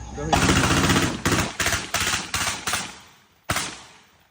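An IWI Carmel rifle fires seven loud, close, sharp shots outdoors in an uneven rhythm, each crack followed by a short ringing decay, with a longer pause before the last shot.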